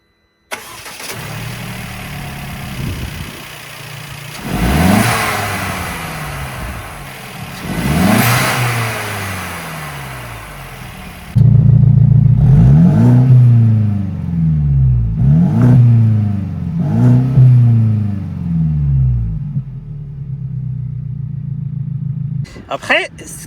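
Mercedes-Benz SLC R172 roadster engine revving with the exhaust flaps open in sport plus mode, several sharp throttle blips rising and falling over idle that get louder and throatier partway through, with someone talking over the engine.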